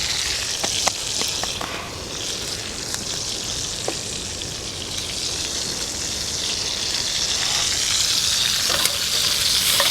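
Chili powder being stirred into jambalaya with chicken and tasso sizzling in a pot over medium heat, a steady bright frying hiss throughout with scattered soft scraping clicks of the spoon.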